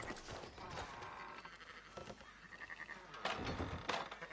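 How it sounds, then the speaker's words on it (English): Sheep in a flock bleat in the western video game Red Dead Redemption 2, several faint calls rising over a busy bed of game ambience, hoof clatter and distant movement. "Fine sheep."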